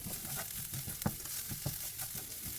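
Okra (ladies finger) fries in a pan with ginger garlic paste, a soft, steady sizzle with occasional stirring scrapes and taps, fairly quiet with no voices.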